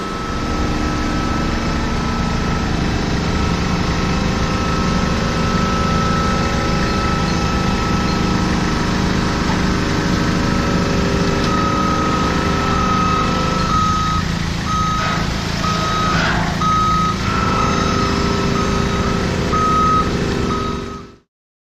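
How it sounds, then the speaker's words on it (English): A forklift truck engine runs steadily throughout, with a repeating high electronic reversing beep joining partway through as it backs up. "we'll drive in with the forklift truck and pick up the bag"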